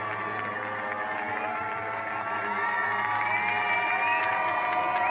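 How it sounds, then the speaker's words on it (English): Roaring crowd at a para snowboard banked slalom final, a dense, steady wall of cheering, whoops and applause that swells slightly toward the end, close and loud throughout. "And you can hear the roar of the crowd"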